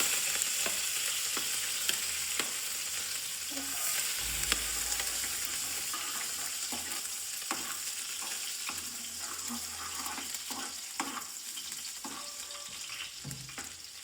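Chillies sizzle in hot oil as they fry for peanut bhajiya, a steady close crackle with clinks and scrapes from stirring throughout, and no voices.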